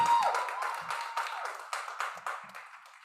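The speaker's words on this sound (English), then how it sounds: "Make some noise as she comes to the stage. Keep clapping, keep clapping, keep clapping, keep clapping." An audience claps and applauds for a performer stepping onto the stage at an open mic night, a steady patter of many hands that starts loud and gradually thins and fades.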